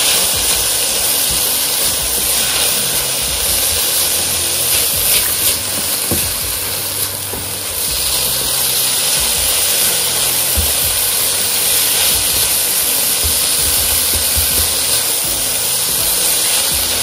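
Ground beef with chili flakes, salt, chili powder and curry powder sizzles in a frying pan, a steady close hiss of frying that runs without a break.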